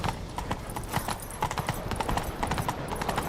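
Hooves of a galloping horse in the video game The Witcher 3 beat out a fast, even clip-clop rhythm, close and clear, running throughout with no talk.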